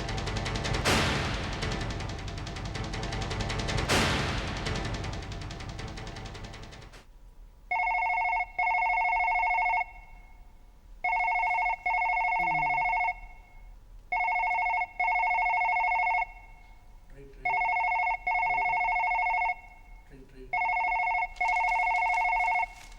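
A telephone rings in a steady pattern of five or six evenly spaced electronic bursts with short pauses between them, heard clearly after a loud, noisy opening stretch.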